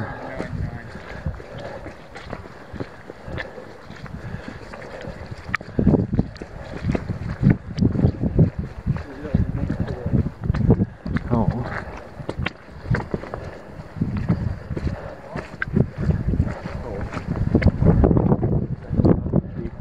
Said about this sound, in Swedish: Ja, det blåser där nere, ja.